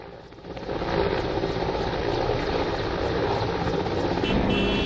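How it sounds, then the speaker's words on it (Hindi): Helicopter making a trial landing near polling stations in Gariaband, a steady loud rotor and engine roar that swells after the first second and holds alone without talk. "हेलीकॉप्टर की ट्रायल लैंडिंग हुई है।"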